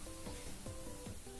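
Ground spices and coriander powder sizzling with chopped tomato in a hot pan for egg and potato dum, a steady close frying crackle with faint background hum throughout.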